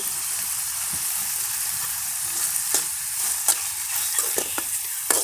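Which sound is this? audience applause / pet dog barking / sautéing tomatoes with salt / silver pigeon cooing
sautéing tomatoes with salt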